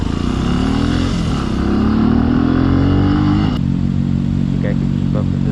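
A Benelli motorcycle accelerates hard from a standstill, its engine note climbing steadily and loud up close, with a shift partway through and wind and road noise underneath.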